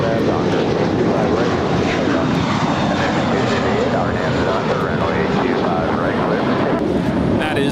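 A JetBlue Airways Airbus A321 departs LAX with a loud, continuous jet engine roar close to the microphone, some wind buffeting, and people talking over it throughout.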